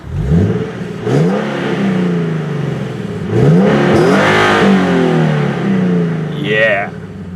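A 2014 Nissan 370Z with a Borla aftermarket exhaust revs repeatedly, rising and falling in pitch with throaty exhaust roar, close and loud, several blips in succession.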